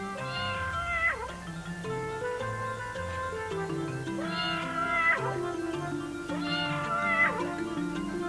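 A cat meows repeatedly as a sound effect in a children's animal story, three long drawn-out meows spaced a few seconds apart over a steady musical background.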